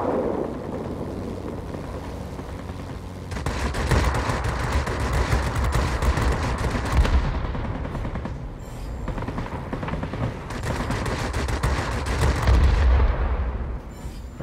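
A La-5 fighter in World of Warplanes strafing ground targets, sustained rapid gun bursts roaring over engine drone, one long volley, a brief pause, then another long burst, loud and close.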